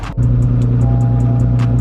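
A car engine, before test pipes are installed, idles loud and close with a steady low drone and light rhythmic pulses of small revs, heard alone without talk.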